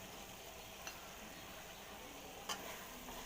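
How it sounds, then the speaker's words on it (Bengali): Coriander and cumin powder is stirred into minced meat frying in a pan for keema fry. A faint, steady sizzle runs under soft scraping, with two small metallic clinks from the utensil against the pan. "ভালো করে নাড়াচাড়া করব।"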